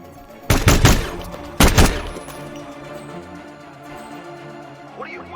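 Concept 5 sniper rifle firing in the Hitman video game: two loud, booming shots about a second apart, each with a rumbling tail, followed by a quieter stretch of low game ambience.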